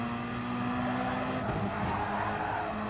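Gr.3 race cars, a BMW among them, in Gran Turismo Sport at Dragon Trail Gardens: a steady, loud drone of racing engines with a faint tire squeal or skid partway through, no voices.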